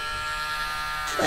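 A Dremel rotary sander with a new sanding head runs on a low setting against a dog's toenail, giving a steady, close electric whine with bright harmonic hum and a brief rougher grinding surge at the end.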